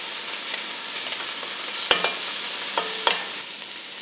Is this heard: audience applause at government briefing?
no